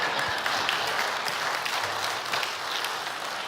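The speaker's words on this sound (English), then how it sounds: "Don't clap for him." An audience at a talk on diversity claps steadily for several seconds, a dense, moderately loud wash of many hands with no speech over it.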